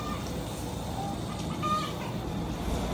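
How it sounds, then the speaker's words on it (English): Free-range chickens cluck softly in the background amid steady outdoor ambience, with scattered faint bird calls. "Chickens are free ranging today."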